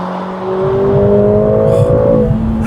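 A 2021 Mercedes-AMG GLA 45 mini SUV engine revs hard and climbs steadily in pitch toward the shift point, loud and close, before the tone drops off as the gear changes.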